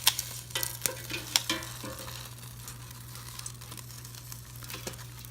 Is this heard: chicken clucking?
no